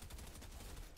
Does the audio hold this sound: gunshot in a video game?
yes